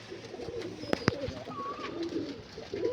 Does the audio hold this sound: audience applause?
no